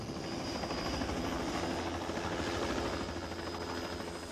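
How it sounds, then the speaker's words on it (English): A helicopter flies steadily, its rotor and engine roar filling the whole stretch with a dense continuous drone and no voices. "For the veterans, the sound of the helicopter still evokes memories of a now distant"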